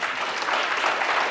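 An audience claps together in a dense, steady burst of applause at a regional business event, loud and brief with no speech.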